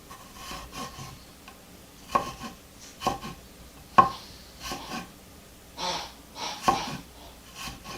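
Turmeric root is sliced with a knife on a cutting board for honey-fermented cranberries, giving a series of sharp, irregular chopping taps and scraping cuts, close and moderately loud with short pauses between strokes.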